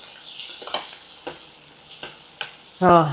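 Avakaya mango pickle frying in a pan, a soft sizzle with several light scrapes and stirs spaced out, then a short voice at the end.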